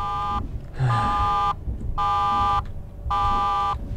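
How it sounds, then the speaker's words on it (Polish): In the horror video game Phantaruk, an electronic alarm buzzer blares in repeated long pulses with short gaps between them, loud and insistent, with a low thump in one gap. "Co tu się dzieje? Co to za alarm?"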